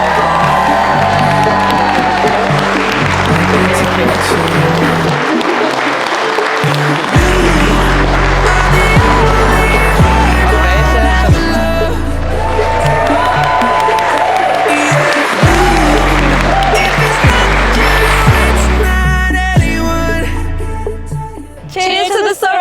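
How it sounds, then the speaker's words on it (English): Wedding guests clap, cheer and whoop for the newly announced couple, a loud, sustained crowd roar layered over booming reception music that carries on throughout. "So can you please give them all a very noisy round of applause?"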